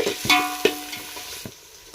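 Tomato and coriander stirred in a frying pan, with a few quick spatula scrapes and clinks against the pan over a soft sizzle, close up and without talk.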